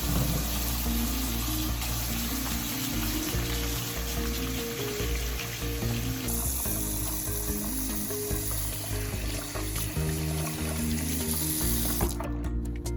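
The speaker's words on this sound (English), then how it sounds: "Next, you want to look at your faucet, turn it to warm." Warm water runs steadily from a sink faucet, a loud, continuous splashing stream that cuts off near the end, with no talking.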